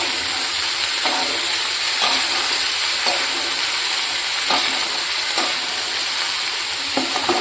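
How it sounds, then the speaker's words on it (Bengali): Ghugni is stirred and sautéed in a pan under a constant frying hiss, with a spatula scraping at a rough rhythm about once a second throughout. "এখন একটু নাড়তে হবে, ভালো করে একটু কষতে হবে"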